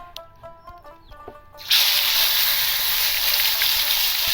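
Hilsa paturi wrapped in bottle gourd leaves hits hot oil in a kadai, and a loud sudden sizzle erupts after quieter kitchen sounds, then holds steady and strong to the end.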